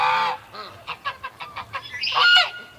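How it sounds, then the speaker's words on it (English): Male goose honking several times in a series of short, moderately loud calls, ending in a longer, harsher honk; other fowl calls are heard faintly. "that male goose is really confused. He doesn't want to come out."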